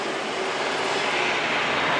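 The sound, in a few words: Airbus A330-300 heavy jet landing on runway 8 left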